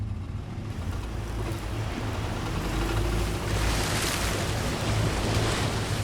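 A vehicle fords a fast-flowing river about two and a half feet deep, with loud, continuous rushing and churning water and wind-like roar, the noise swelling toward the end.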